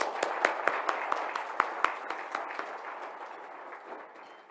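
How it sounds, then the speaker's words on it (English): Audience at an awards luncheon claps in a brief round of applause, sharp individual claps early on, thinning and fading over a few seconds. "Let's give them all a round of applause."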